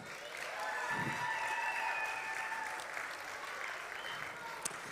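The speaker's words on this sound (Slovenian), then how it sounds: "jim namenimo še en velik aplavz" Audience at the FeNS 2023 festival finale in a tavern venue in Koper applauds steadily, a dense wash of clapping with faint whistles and cheers, sustained from start to finish at moderate distance.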